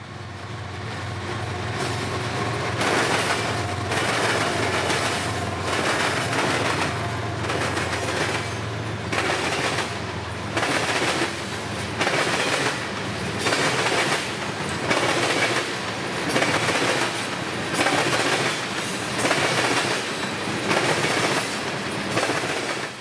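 Freight train of ethanol tank cars from Chicago bound for Tampa rolls past, loud and close, its wheels beating a steady rhythmic clickety-clack as car after car crosses the rail joints, after a low engine rumble at the start.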